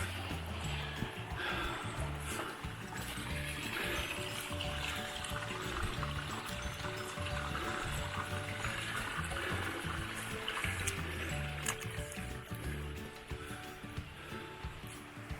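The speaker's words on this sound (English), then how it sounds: "Just come across this nice little creek coming down." A small mountain creek tumbles down a hillside on an alpine walk, giving a steady close rush and trickle of water with no pauses.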